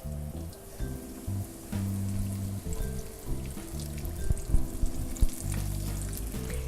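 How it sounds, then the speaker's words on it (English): Chicken leg quarter, breast and wing frying in about a quarter cup of oil; steady, close sizzle, a dense crackling hiss with a few sharper pops, and no voices. "I'm frying these half at a time, a leg quarter, a breast, and a wing"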